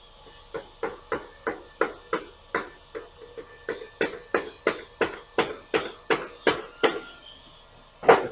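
Repeated hammer blows ring out on a metal wheel spacer of a small dirt bike wheel, about twenty sharp strikes in a steady rhythm that grows slightly louder, then one heavier final hit.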